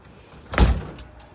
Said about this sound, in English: Gotta lock my door now